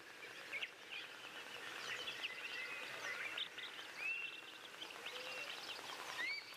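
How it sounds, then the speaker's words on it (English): Soft chirps and tweets from several birds in an outdoor nature setting, faint and distant, repeating irregularly over a quiet hiss of background ambience. "I can hear soft tweeting of birds."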